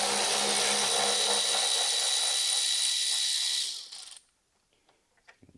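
A ratchet spins rapidly and loudly while loosening a fan shroud bolt on a C4 Corvette, a steady clicking whir that stops abruptly, followed by a few faint handling clicks.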